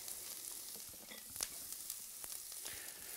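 Bell pepper and zucchini fry gently in a pan for ratatouille, a steady soft sizzle with a few light clicks and stirring scrapes, close and alone with no talking.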